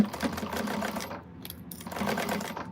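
A home sewing machine runs a long basting stitch along a bag, a quiet rapid mechanical whirring in two short bursts separated by a brief pause.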